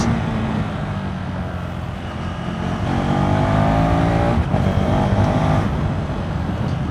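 A KTM 390 SMC-R motorcycle engine pulls hard and loud, its pitch climbing steadily through the gears from a close onboard position, with constant wind roar and no talking.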